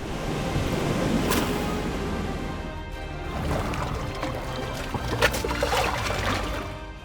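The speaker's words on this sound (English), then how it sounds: "This wave-washing technique allows orcas to use their massive body weight to generate waves strong enough to tilt or break the ice." Heavy water surges and washes in a broad, rushing roar as an orca pod pushes waves against floating ice. The churning and splashing swell and ease over several seconds, with no voices.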